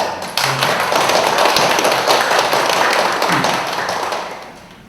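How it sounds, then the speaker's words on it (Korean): Dense, loud applause from a seminar audience welcoming a guest professor, a continuous wash of clapping that swells quickly and tapers off toward the end. "멀리서 와주셔서 일단 박수 한번"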